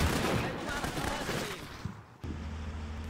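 Suppressive gunfire in the PC wargame Combat Mission Shock Force 2, a dense rattle of rapid shots and distant bursts that thins out, then gives way to a steady low rumble.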